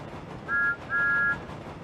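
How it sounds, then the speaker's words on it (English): A train guard's whistle: two short shrill blasts, the second longer than the first, sounding fairly close over quiet background noise. "The guard blows his whistle and Thomas puffs away."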